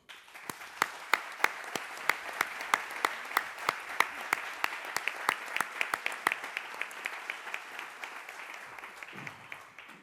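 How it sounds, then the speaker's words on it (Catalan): Audience applause at the opening of a regional cultural conference, rhythmic clapping in a hall with distinct sharp claps at a steady pace, fading slightly toward the end. "recordar-los en un fort aplaudiment"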